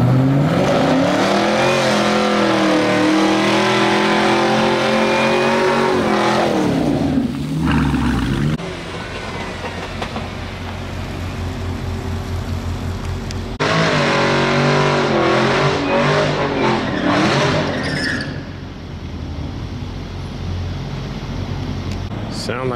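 A Camaro and an all-wheel-drive Audi race, their engines revving hard in loud, close sweeping pulls that rise and fall, then drop to an idling rumble before roaring again, with voices faintly underneath.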